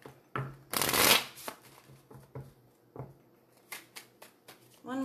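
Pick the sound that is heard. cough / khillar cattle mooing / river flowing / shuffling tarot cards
shuffling tarot cards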